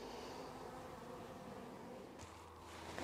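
Hornets and bees buzz faintly around beehives on a sunny day, a thin continuous drone over soft outdoor rustling, with no talking.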